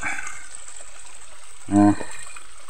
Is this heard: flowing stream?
yes